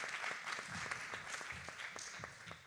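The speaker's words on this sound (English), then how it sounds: "Let's give another applause to both of our candidates, Alan Grayson and Coretta Anthony Smith" Audience applause for the candidates at a Senate District 15 special election candidate forum in a chapel: a dense, steady patter of many clapping hands filling the room, sustained throughout and easing slightly at the end.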